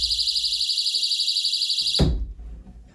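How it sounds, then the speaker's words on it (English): A loud, piercing electronic alarm from a window contact sensor beeps continuously for about two seconds, then cuts off abruptly with a thud, leaving low background rumble. "goes into an audible alarm"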